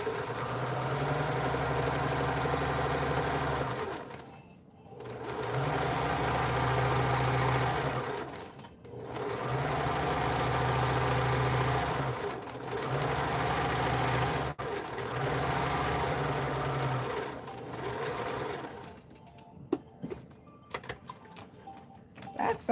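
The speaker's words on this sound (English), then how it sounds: "So I'm gonna stitch over it." A home sewing machine whirs steadily in several long bursts of stitching on a padded dress form cover, with short pauses between runs and a few small clicks and handling sounds at the end.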